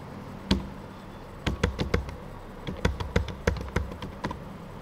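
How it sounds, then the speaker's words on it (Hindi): Keys tapped on a computer keyboard while entering numbers into an MS Excel spreadsheet, heard as an isolated tap followed by bursts of quick, fairly close clicks in uneven clusters over a faint background. "लिख लेना है अपने कीबोर्ड से"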